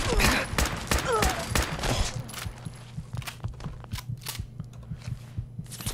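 Gunners open fire in Fallout 4, first with dense overlapping rounds and then with sharp single and double shots at irregular intervals over a low, steady hum.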